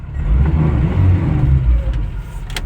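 Diesel engine of a 2001 Mazda 626 GF revving up close, a loud low rumble swelling and easing, with faint clicks near the end.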